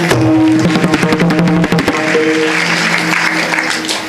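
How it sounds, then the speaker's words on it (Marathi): Audience applause at a kirtan performance in Pune fills the whole stretch, with steady, dense clapping over sustained musical tones and a few sharper claps early on, staying loud throughout. "सगळ्यांसाठी एकदा जोरदार टाळ्या."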